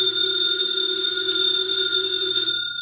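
A house telephone rings with a sustained, unbroken bell tone that carries clear and prominent for nearly three seconds, fading slightly at the end, with no talking, in an old-time radio detective drama.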